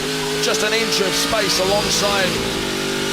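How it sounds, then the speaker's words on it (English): A Speedcar Series racing car's engine is pushed hard during a race in Malaysia, its note rising and falling through the gears under continuous excited commentary. "we can also hear just how hard he's pushing that car"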